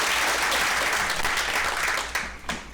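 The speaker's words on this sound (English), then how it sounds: "We'll give him a round of applause." An audience at a real estate sales meeting claps together in a steady, dense round of applause that fills the clip and thins out near the end.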